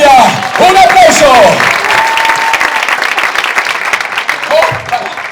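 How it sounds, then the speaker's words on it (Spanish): An audience at a children's show bursts into sustained applause and cheering, loud and close, with a lively voice calling out over the clapping at the start and again near the end. "¡Un aplauso!"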